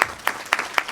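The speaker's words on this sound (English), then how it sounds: "can we all give a round of applause to all of our sponsors in here?" A handful of sharp, separate hand claps at a cybersecurity conference panel in Indianapolis, as the audience applauds the event sponsors. The claps are sparse and evenly spaced, about four across a second, with no talking.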